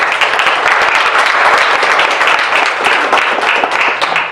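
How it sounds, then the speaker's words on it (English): Audience at a county candidate forum applauding the candidates, a dense, steady roar of many hands clapping that holds loud and full for the whole stretch with no voices over it. "please give all the candidates that are here tonight a round of applause."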